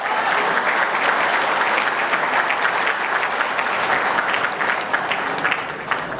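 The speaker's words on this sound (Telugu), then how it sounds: "సో ఈ సందర్భంగా ఒక్కసారి చాలా గ్రాండ్గా క్లాప్స్ ఇవ్వాలి మల్లేష్ గారికి." Audience at an Enagic career seminar giving sustained applause, many hands clapping steadily and fairly loudly for about six seconds with no break.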